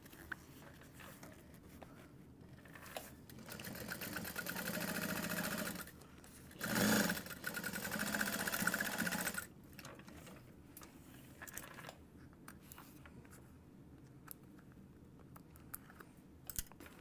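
A home sewing machine stitches a zipper pocket closed in several bursts of rapid mechanical whirring, the longest lasting a few seconds, with quiet handling clicks and rustles in between.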